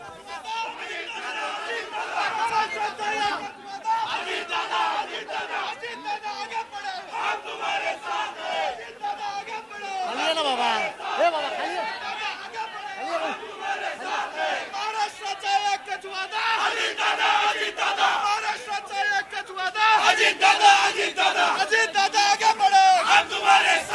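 Party MLAs celebrate an election win outside the legislature building with a dense, excited crowd shouting and chanting slogans in rising and falling waves alongside steady chatter, loud and close throughout.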